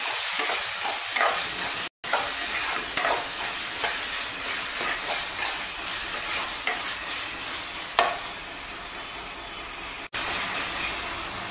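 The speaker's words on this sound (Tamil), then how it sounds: "கொஞ்சமாக புதினா சேர்த்துட்டு நல்லா வதக்கி விட்டுடலாம்" Tomatoes, onions and mint sautéing in a pan for mutton curry give off a loud, continuous hiss and sizzle, with repeated stirring scrapes close up and two brief cut-outs, no talking.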